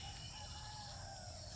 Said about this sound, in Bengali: মুরগের ডাক শুনে